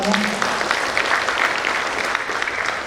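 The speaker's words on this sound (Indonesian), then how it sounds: "Tepuk tangan untuk semuanya." Steady applause from the audience at a polytechnic graduation and oath-taking ceremony, a dense, continuous patter of clapping filling the hall at a constant level.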